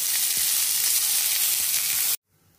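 Tomatoes dropped into a hot pan while cooking kaddu ki sabji sizzle loudly and steadily for about two seconds, then the sizzling cuts off abruptly into near silence.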